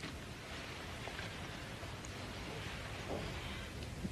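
Steady rain falls as a constant dense hiss at an even moderate level, with no voices.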